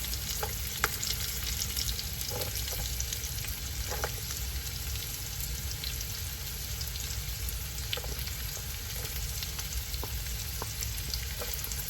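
Onions fry in a pan for homemade vegetable spring rolls, a constant, even sizzle close by with occasional light taps and clicks of a utensil, and no talking.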